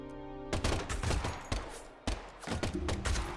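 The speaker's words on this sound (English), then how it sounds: "Instead of just having weird gunfire." Gunfire in the video game Deadly Premonition 2 comes as loud, dense bursts of shots, broken by brief gaps, sounding close and harsh with no voices over it.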